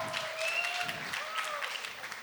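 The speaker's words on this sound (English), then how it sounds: "many of the employees who did not understand you are clapping for you" Applause from an audience at a management institute event, a steady patter of many hands clapping, moderately loud and continuous throughout.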